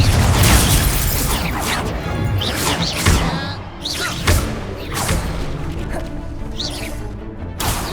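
Incendio fire spells cast in Hogwarts Legacy: repeated whooshing bursts and crackling impacts in quick succession, loud and close, over a busy combat background.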